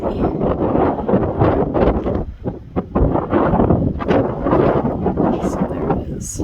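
Strong wind buffets the microphone at a Mesa Verde cliff overlook, loud rumbling gusts that roar and surge continuously, with a voice faintly mixed in.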